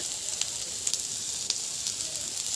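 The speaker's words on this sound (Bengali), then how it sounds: "ভালো করে ভেজে নেব" Pieces of rohu fish frying in hot oil for a spicy Bengali fish curry, giving a steady, even sizzle with a few faint crackles and pops throughout.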